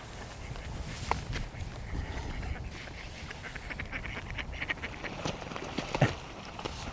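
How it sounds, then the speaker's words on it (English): Ducks quack now and then over a steady outdoor background, with footsteps and rustling nearby; one louder quack stands out near the end. "These ducks are overly friendly."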